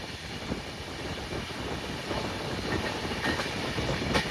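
A passenger train running near Malleshwaram on the Bagalkote to KSR Bengaluru route, heard from on board as a faint, continuous rumble with dense rhythmic wheel clatter throughout.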